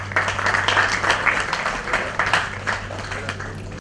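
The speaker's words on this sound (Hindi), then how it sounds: "जोरदार तालियां बजाइए आप देशपांडे जी के लिए।" Audience applause at a stage play, a steady patter of many hands clapping at moderate loudness for several seconds, with a low hum underneath.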